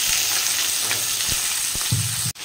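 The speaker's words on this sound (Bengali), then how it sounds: "লবণ হলুদ দিয়ে দিয়েছি, একটু ভাজা ভাজা করে নেব" Long-cut potato and onion strips fry with salt and turmeric in a home kitchen. A close, steady sizzle runs throughout, with a few stirring scrapes, until it cuts off abruptly near the end.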